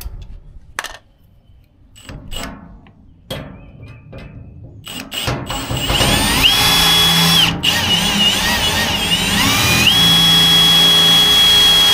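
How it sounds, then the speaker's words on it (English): Power drill boring a hole in a trailer during a winch install, scattered clanks and handling knocks first, then a loud sustained drill whine with shifting pitch as the bit works through metal. "So we got that drilled"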